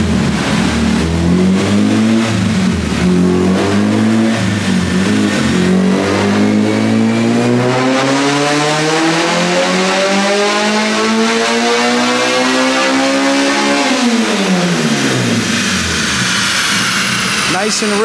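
A tuned K-series car engine on a dyno revs up through a long, loud, steady sweep running rich, then drops back sharply near the end, with voices talking underneath.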